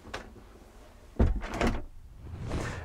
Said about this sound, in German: Ich kann die Tür hinter mir zumachen